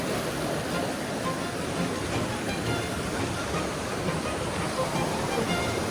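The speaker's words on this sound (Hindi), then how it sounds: "ये आ गया वाटरफॉल वो भी ऊपर है" A waterfall at Bir Billing in Himachal Pradesh gives a constant broad rushing roar, steady and unbroken for the whole stretch.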